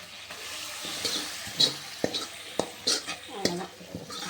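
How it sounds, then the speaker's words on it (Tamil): Tempering for a prawn gravy sizzles softly in a pan, with scattered utensil clinks and scrapes as it is stirred, fairly quiet and close. "இறால் கிரேவிக்கு ஒரு சின்ன தாளிப்பு கொடுத்தாச்சு."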